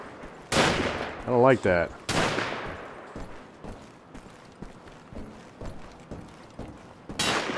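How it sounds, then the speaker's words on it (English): Enemy gunfire in Wolfenstein: The Old Blood, with sharp loud shots at the start and end and quieter scattered pops between, while someone speaks briefly. "Somebody's shooting at me."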